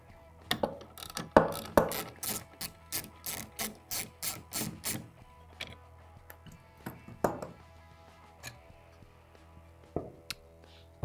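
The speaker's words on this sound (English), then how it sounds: "we're gonna take our Torx T25, we're gonna remove the mud guard from the base of the rear shock" A Torx T25 driver turning a bolt to remove the mud guard from the base of a Polaris RZR XP 1000 rear shock, giving a close, rhythmic ratcheting click run that slows into scattered clicks and faint tool noise.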